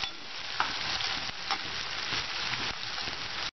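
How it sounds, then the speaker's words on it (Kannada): Chopped tomato and onion sizzle steadily in a pan, with a few sharp scrapes of a spoon stirring them, close up and with no talking. "ಟೊಮ್ಯಾಟೋನ ಚೆನ್ನಾಗಿ ಮಿಕ್ಸ್ ಮಾಡ್ಕೊಳ್ಳಿ."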